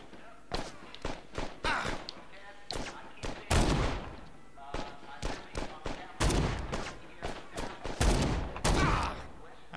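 Gunfire in the video game Dead Rising 4, with irregular shots and thuds, some loud and sharp, mixed with game sounds and a voice that talks in between.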